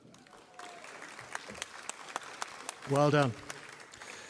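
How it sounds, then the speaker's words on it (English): Scattered, fairly quiet clapping rises from the audience at a graduation ceremony, and a voice briefly speaks over it. "So big round of applause"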